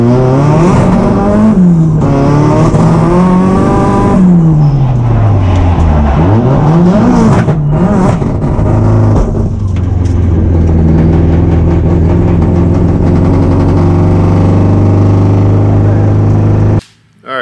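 Drift car engine revving hard during testing, floored through first and second gear, with rising and falling harmonic sweeps that climb steadily, loud and close, then cut abruptly near the end.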